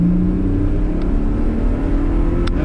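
A Lotus Evora's engine pulls hard on a race track from inside the car, a loud, continuous rising drone with the pitch climbing steadily under acceleration, no voices heard.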